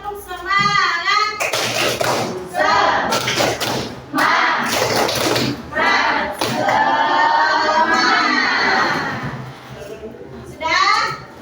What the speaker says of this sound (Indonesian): Kalau belum tepuk semangat